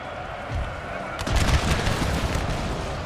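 Musket volley fire in the video game Napoleon Total War, with a crackling line of shots swelling up partway through and rolling on over a low battlefield rumble, loud and somewhat distant.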